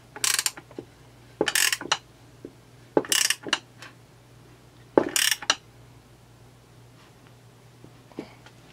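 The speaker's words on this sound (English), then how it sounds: "Hold the nut this side, and crank her on down." Ratcheting a bearing puller down on a chainsaw crankshaft to pull off a damaged bearing missing its cage, with four short bursts of metallic clicking separated by pauses and a few faint taps.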